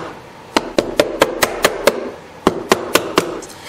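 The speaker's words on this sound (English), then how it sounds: "I'm just tapping it kind of lightly," A plastic hammer taps lightly on a wrecked boat hull while checking the bond, giving a steady series of sharp, evenly spaced knocks, close and clear with brief pauses.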